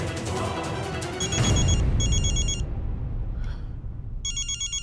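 A telephone rings in several short electronic bursts, two close together and then another after a pause. The rings sound over a loud, noisy background that fades midway.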